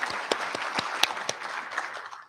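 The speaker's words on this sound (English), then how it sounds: "let's give a round of applause one more time" Audience clapping at the 2022 CCSD District Spelling Bee: a burst of scattered hand claps with a few sharper individual claps, moderately loud and fading toward the end, with no voices.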